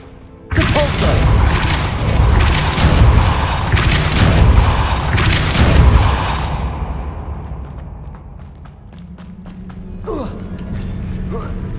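Heavy magical blasts from a Depulso spell in the video game Hogwarts Legacy come in a quick cluster of booming bursts, loud and close, then fade into quieter rumbling effects.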